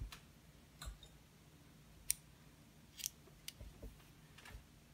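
Scissors snip off knitting yarn from a tiny hand-knitted holiday sweater, a few faint, sharp clicks spaced apart over a quiet room background.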